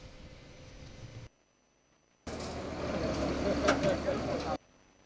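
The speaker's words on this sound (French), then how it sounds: "les camions transporteurs de déchets solides ménagers sont pesés, puis direction les alvéoles de stockage." Garbage trucks hauling household solid waste at a landfill weighbridge, a heavy engine rumble rising suddenly after a quiet gap and holding steady for a couple of seconds before cutting off, with faint background noise around it.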